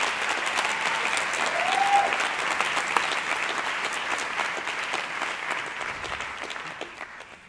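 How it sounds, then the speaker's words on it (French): An audience claps loudly and continuously at a musical theatre awards ceremony in 2019, a dense steady ovation that slowly fades near the end. "On peut encore les applaudir bien fort."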